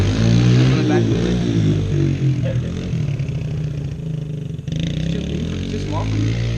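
Small dirt bike engine revving up and down as a 12-year-old rider pulls wheelies, a steady buzzing drone close by with voices talking over it throughout.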